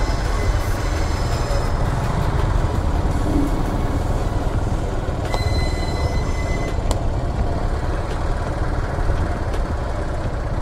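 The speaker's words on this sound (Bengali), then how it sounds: "ট্রেনটা যাবে তারপরে আমরা যাব, ঠিক আছে। এটার জন্য একটু দাঁড়াতে হচ্ছে।" A train rumbles steadily past a level crossing, with wheels clattering and brief squeals, heard up close throughout while motorbike and other road traffic wait for it to clear.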